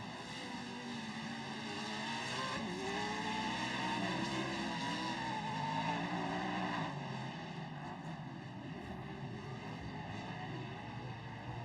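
Pro 4 off-road race trucks roar past on the Crandon dirt course, a sustained engine drone rising and falling in the distance beneath an announcer's commentary.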